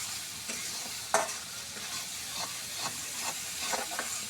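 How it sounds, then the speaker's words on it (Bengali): Ground ginger and garlic frying in oil in a pan while being stirred, a steady sizzling hiss with scraping stirs and one sharp clatter early on. "আদা রসুন এগুলা গুঁড়ো করে যত সুন্দর করে লাল লাল করে কষে নেবেন"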